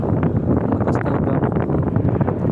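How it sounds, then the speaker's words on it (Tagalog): Strong sea wind roars steadily and loudly into the microphone by the shore in Cebu, a constant dense buffeting with no pauses. "ang lakas pala ng hangin"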